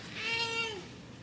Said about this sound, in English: This cat right here, she's just like rubbing up against all the books.